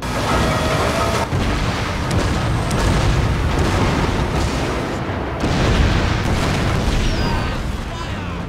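Cannon fire booms during a naval battle in the Shogun 2 video game, a loud, dense rumble of repeated blasts and crashing noise throughout.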